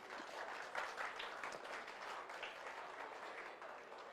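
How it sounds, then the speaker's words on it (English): A school TEDx audience applauds themselves in a hall, a dense, even wash of many hands clapping at once, heard from a distance and fairly faint, with no talking over it. "Give yourselves a round of applause and take your seat."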